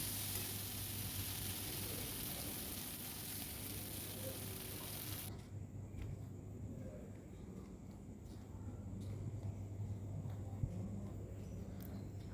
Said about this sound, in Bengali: ভেন্ডিগুলো আমার আধ ভাজা হয়ে গেছে। তো আমি এর মধ্যে মশলাটা দিয়ে দিলাম